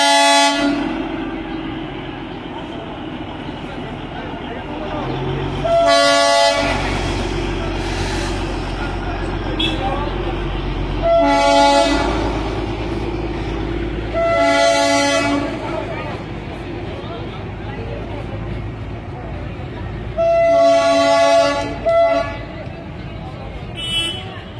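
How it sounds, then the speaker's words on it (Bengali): The Kurseong toy train arrives below the clock tower, sounding about five loud, sharp horn blasts spaced several seconds apart over a rumbling street background, while a person talks throughout. "টয় ট্রেন আসছে দেখুন, টয় ট্রেন, কার্শিয়াংয়ে টয় ট্রেন,"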